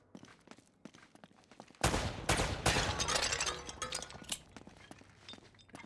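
Gunfire in Uncharted: Drake's Fortune, with scattered clicks and footsteps first, then a loud sustained volley of rapid shots and clattering impacts for several seconds.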